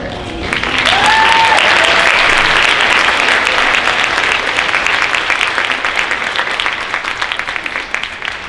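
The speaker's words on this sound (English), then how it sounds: "Let's give them one more round of applause." At a high school senior honors night, a crowd claps loudly and steadily in a large hall. A brief whistle or cheer sounds near the start, and the applause stays full for several seconds before easing slightly.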